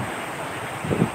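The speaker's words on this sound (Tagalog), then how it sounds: "Lumalaki pa yung mga alon" Sea waves grow during Typhoon Odette, heard as rough surf and gusting wind buffeting the microphone, with a heavier wash surging near the end of the brief stretch.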